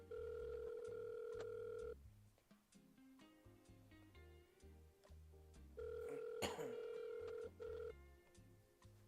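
A telephone call rings out with a steady electronic ringing tone, two clear bursts separated by a pause, fairly quiet with a short burst of noise during the second ring.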